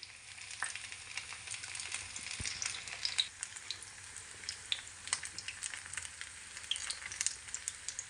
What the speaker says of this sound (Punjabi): ਚੰਗੀ ਤਰ੍ਹਾਂ ਫਰਾਈ ਹੁੰਦੇ ਤੱਕ ਆਪਾਂ ਪਕਾਉਣੇ ਆ ਗੈਸ ਆਪਾਂ ਨੇ ਸਲੋ ਰੱਖਣਾ